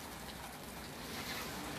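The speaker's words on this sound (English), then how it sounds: "it's a icy rainy day. I guess it's sleet" Icy rain and sleet fall on a cold day as a faint, even hiss that stays steady throughout, with no voices.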